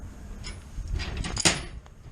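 The heavy duty metal front door of a raccoon cage trap is handled, making a short sequence of soft shuffling rattles that ends in a brief sharper metallic clank, close and fairly quiet.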